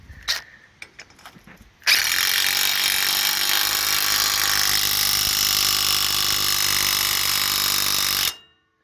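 Impact wrench tightening 2-inch bolts on crop lifters for a John Deere 2320 swather: a few short bursts and clicks, then a loud continuous rattling hammer-whir running about six seconds before stopping abruptly, close by.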